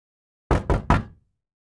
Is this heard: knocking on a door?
yes